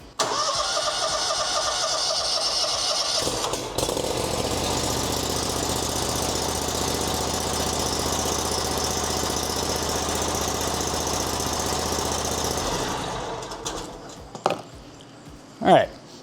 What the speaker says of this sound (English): we're gonna start the mower up and let it run for maybe about 5 seconds